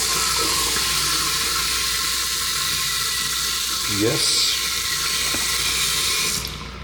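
Water runs steadily from a tap in an abandoned mansion, a constant loud hissing rush that continues for several seconds before cutting off, with a brief voice heard over it.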